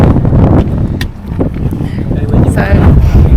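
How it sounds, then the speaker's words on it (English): Strong gusts at Windy Pass on the W Trek in Torres del Paine buffet the microphone with loud, continuous low roaring rumble throughout. "We have now made it to the Windy Pass, as said by this sign, and it is very windy"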